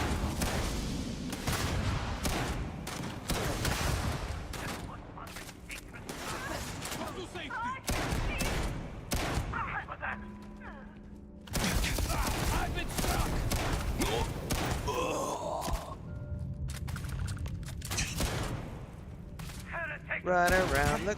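Shotgun fire and combat in the sci-fi game Starfield: Shattered Space, with repeated loud blasts and bursts of gunfire mixed with game sounds, running throughout under a commentator's talk.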